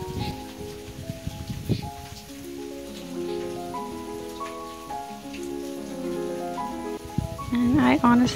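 Steady rain falling outside on a gloomy day, a continuous soft hiss and patter running beneath gentle melodic music throughout, with a brief voice near the end.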